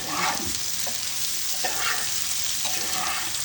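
Sweet pumpkin stir-fries in a pan with a steady, close crackling sizzle and a few soft scraping stirs, no voices.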